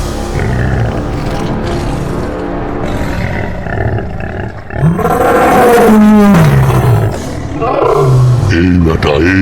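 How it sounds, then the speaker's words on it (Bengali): A cartoon lion roars loudly in a jungle scene, a long rising and falling growl over busy background music, followed by further grunting calls. "তখন জঙ্গলের রাজা সিংহ সেখানে এসে পড়ে।"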